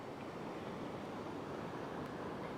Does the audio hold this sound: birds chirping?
no